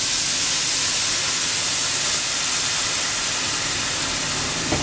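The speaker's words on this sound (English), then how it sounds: "Now we're going to deglaze the pan with that white wine." White Chardonnay wine hitting a hot pan of pork loin drippings, a loud, steady steamy hiss and sizzle that runs unbroken throughout.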